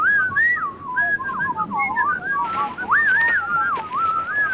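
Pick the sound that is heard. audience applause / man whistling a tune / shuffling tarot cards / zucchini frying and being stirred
man whistling a tune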